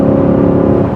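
A 6.1 liter HEMI V8 car engine rumbles steadily and loudly up close, a deep throaty drone that eases off slightly at the very end.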